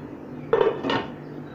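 A metal lid set down onto a pot of steaming kande pohe, making two quick close clanks in succession, loud and alone with no talk over them.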